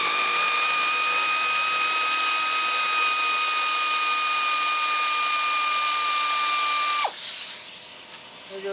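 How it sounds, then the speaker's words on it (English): An air compressor runs in a workshop during a John Deere LA110 mower deck repair, giving a loud, steady mechanical drone with a high whine that holds evenly for about seven seconds, then cuts off abruptly and leaves quieter rattling behind. "There goes the air compressor."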